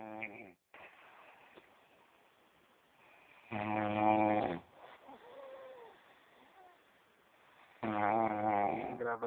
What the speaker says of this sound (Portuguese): Olha a manguaça do inicial roncando.